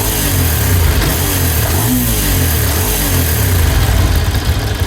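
A Ducati 750 SS Supersport L-twin motorcycle engine runs close by with a loud, steady, uneven idle. A dry, rattling clutch chatters under it, with a slight surge midway.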